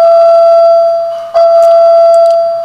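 An Epco elevator chime rings in a Dick's Sporting Goods store at a mall, a sustained bright electronic tone that holds steady, close and loud, with a brief dip midway and no voices.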